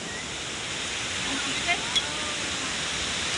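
A waterfall roars as a constant, dense wash of rushing water, loud and unbroken, with a couple of faint clicks and a hint of a voice in the background.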